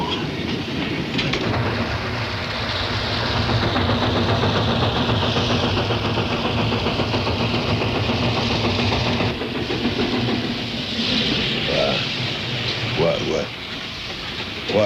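A train rumbles steadily with rhythmic clacking of wheels on rails, the noise easing slightly toward the end.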